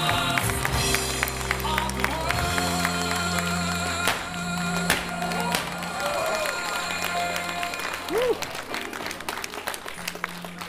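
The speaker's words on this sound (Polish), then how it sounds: "No i wielkie brawa, proszę Państwa, za wszystkich nagrodzonych" Warm applause and scattered cheers from the audience at a sports awards gala honoring the winners, steady clapping throughout with a voice talking over it and brief musical tones.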